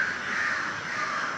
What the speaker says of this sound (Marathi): कावळ्यांचा एवढा का आवाज येतोय?